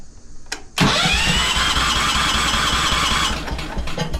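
A 1973 Wheel Horse garden tractor engine turns over and catches abruptly, then settles into a loud, steady close-up running drone that eases off slightly near the end.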